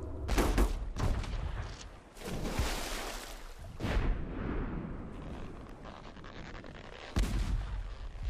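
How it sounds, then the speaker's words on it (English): Cannons firing from a pirate ship in the Pirate Ships 3D ride, booming in a rapid series of loud blasts at the start, then again near the end over a rumbling background. "Fire the cannon at it!"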